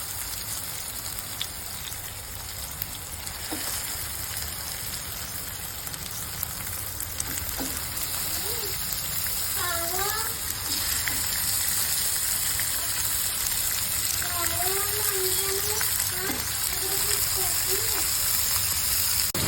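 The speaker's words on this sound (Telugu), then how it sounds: "ఇప్పుడు ఇందులో చికెన్ వేసుకోవాలి." Chicken pieces sizzle steadily in a hot pan of fried ginger garlic paste for Gongura chicken, a continuous dense frying hiss with brief faint voices partway through.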